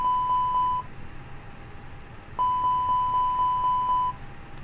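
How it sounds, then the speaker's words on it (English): Aircraft cockpit engine fire alarm test: a short run of repeated electronic beeps, a pause, then a longer series of evenly spaced loud beeps over a faint steady cockpit hum. "And I'm going to test the fire alarms."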